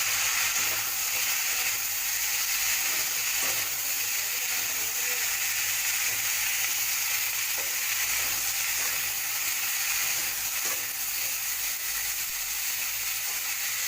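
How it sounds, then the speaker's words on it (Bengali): Cauliflower and mixed vegetables lightly frying in a pan for matar pulao, a constant broad sizzle and hiss throughout with a few faint stirring knocks, steady and close, no speech. "ফুলকপিগুলো দিয়ে হালকা করে ভেজে নেব"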